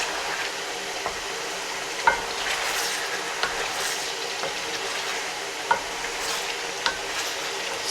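Beef pieces for pasanda frying in a pan, a steady close sizzle with spoon stirring and occasional light scrapes and clinks against the metal, no voices.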